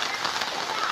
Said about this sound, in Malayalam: നല്ല മഴ തന്നെയായിട്ട് പെയ്തുകൊണ്ടിരിക്കുന്നത്.